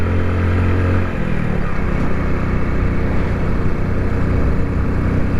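A Hero Splendor motorcycle climbs slowly uphill near Leh, its small engine droning steadily and loudly close by, with a brief shift in pitch partway through.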